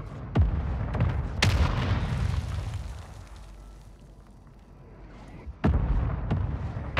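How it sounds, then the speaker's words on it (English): Mortar strike explosions in Call of Duty: Modern Warfare II, with several sharp heavy booms: two early impacts with rumbling tails, a quieter lull, then more sudden blasts close by toward the end. "Hostiles launched a mortar strike."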